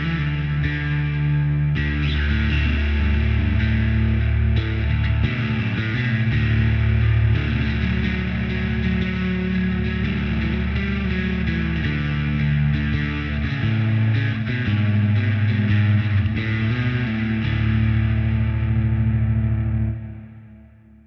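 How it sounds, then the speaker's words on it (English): Bass guitar played through a Walrus Audio Slur reverb pedal, sustained notes and chords swelling into a thick, washy, distorted ambient wash that rings out continuously and then fades away at the end. "we're going into the Slur from Walrus Audio, which is a wonderful reverb pedal"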